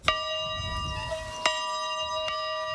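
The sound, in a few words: old schoolhouse bell ringing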